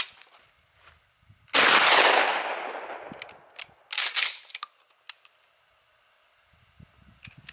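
A Remington 3-inch Slugger shotgun slug is fired from a 28-inch barrel: one loud, close blast rings out and decays over about a second, followed by a few light mechanical clicks and handling sounds.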